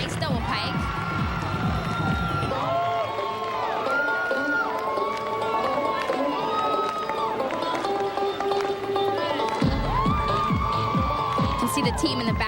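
A college gymnastics team at the 1999 NCAA women's championships claps and cheers from the sidelines during a floor routine, a steady loud crowd roar with whoops and shouts under an announcer's talk.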